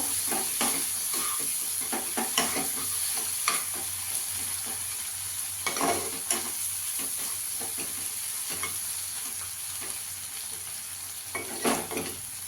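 Ingredients for a masala omelette sauté in butter in a pan, giving a continuous soft sizzle. Repeated scraping and stirring strokes cut through it at close range.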